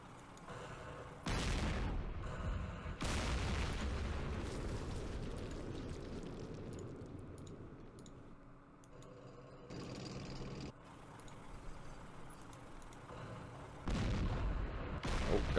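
Artillery in the war game Campaign Series Middle East fires in several heavy booming blasts, each a loud broadband crack trailing into a long rumbling decay, spaced a few seconds apart, with no talking.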